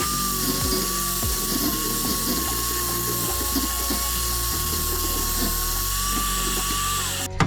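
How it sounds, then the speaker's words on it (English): An angle grinder whines steadily and loudly against a car frame during a Miata drivetrain swap into a 1974 Triumph Spitfire, with a sustained high-pitched tone and gritty grinding texture throughout, ending abruptly. "Here's to doing sketchy things with angle grinders."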